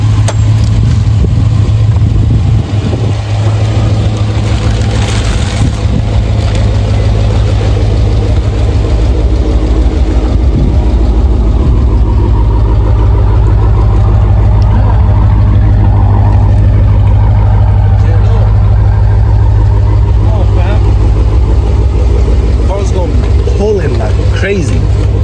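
Dodge Challenger 392 Scat Pack with a K&N cold air intake, its engine running loud and close throughout with a deep idle rumble and rising revs, with people talking and shouting over it.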